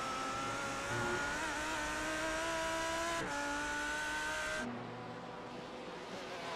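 Lamborghini race car engine in a sim racing video game, a steady high-revving roar with rising and shifting pitch, a sharp gear change near the middle and a drop to a lower, softer drone toward the end, loud and close with no talk.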